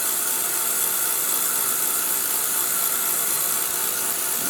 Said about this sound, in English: I have just a little heat jewel here, so mind the noise, it's going to just get a little bit loud